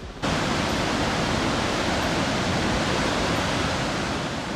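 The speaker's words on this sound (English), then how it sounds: "It's one of the natural wonders of the world and one of the 3 biggest waterfalls in the world." Victoria Falls on the Zambezi River thunders as one of the world's largest waterfalls, a dense, steady roar of falling water that starts abruptly and holds loud and unbroken.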